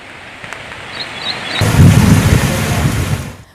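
Heavy rain and stormy wind from Cyclone Amphan over Jharkhand: a low background hiss that abruptly swells into a loud, dense rushing roar and then holds steady.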